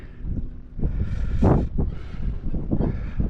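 Gusty wind buffets and rumbles against the microphone in uneven surges, loud and close.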